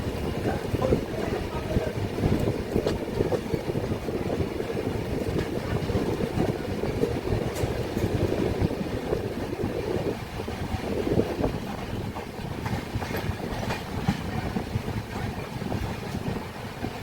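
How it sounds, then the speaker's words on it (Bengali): A Kandari Express train runs on the rails at night, giving a steady, loud rumble and rattle of wheels and carriages with wind noise throughout, no voices. "চলো আমরা কোচে উঠে পড়ি, ট্রেন ছেড়ে দেবে এক্ষুনি।"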